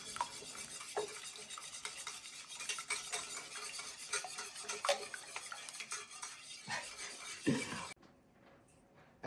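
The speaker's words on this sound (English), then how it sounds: "So now we're just gonna break them up, give it a little stir" Eggs and milk being stirred in a bowl, with repeated soft scraping and the light clinks of a utensil against the bowl, close up and fairly quiet, stopping abruptly near the end.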